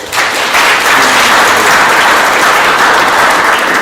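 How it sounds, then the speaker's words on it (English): A large gathering at a senior celebration and awards event bursts into loud, dense, continuous clapping that holds evenly for several seconds. "we'll clap it up"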